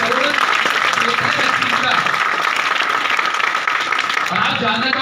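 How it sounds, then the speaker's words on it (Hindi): An audience at a business seminar claps loudly and continuously throughout, a dense wash of applause with a brief spoken word near the end. "ताली बजा दीजिए"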